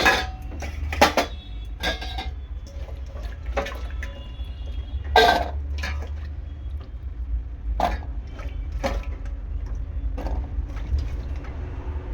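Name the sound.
washing chopped potatoes in water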